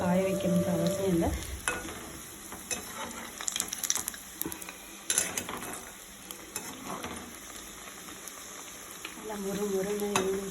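Potato bread rolls deep-frying in hot oil until golden: continuous bubbling sizzle with frequent clicks and scrapes of a slotted spoon turning them, moderately close, with no talking.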